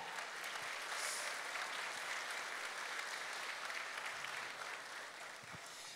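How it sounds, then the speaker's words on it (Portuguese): A church congregation at a Sunday service applauds a missionary, a broad, even crowd clapping heard at a distance and fairly faint, steady throughout with a slight drop near the end. "a gente vai aplaudir o Senhor pela vida dele"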